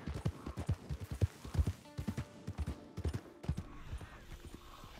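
Horse hooves clip-clopping in Red Dead Redemption 2, a steady run of low thuds close by with a brief startled stir near the end; a faint hum runs underneath.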